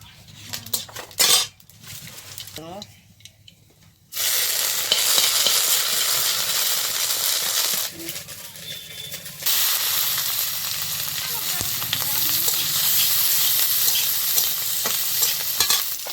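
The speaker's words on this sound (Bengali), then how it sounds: "তেল দিলাম শুকনো জাল দিলাম আর কালি জিরে দিলাম" Dried red chilies and nigella seeds hit hot oil with a sudden loud sizzle that runs steadily, briefly dips and then resumes, after a few metal clinks of utensils at the start, with no talk.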